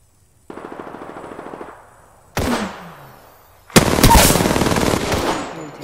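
Machine gun fire in Apex Legends: a rapid rattling burst, then a short louder volley, then a heavy sustained stream of close, loud automatic shots with a faint hum underneath.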